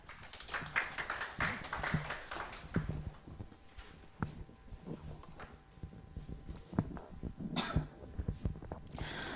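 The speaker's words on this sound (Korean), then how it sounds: "다음 순서로 이론을 담당하고 계시는 조명지 평가사님을 큰 박수로 모시겠습니다" Applause from a seminar audience welcoming the next lecturer at a Korean exam information session, a steady patter of many hands clapping, fairly close and continuous with no talk over it.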